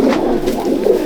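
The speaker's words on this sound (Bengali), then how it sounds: "এই যে এটা মাদি পায়রা" A female pigeon in a loft gives close, low, rolling coos, repeated in soft pulses over a short span, with no voices.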